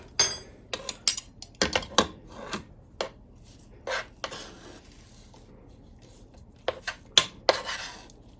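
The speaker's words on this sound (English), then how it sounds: "I'm gonna grab some spoons and I'll show you the spoon method." Metal spoons clatter and clink sharply as they are grabbed, a close series of irregular bright knocks and rattles with quiet gaps between them.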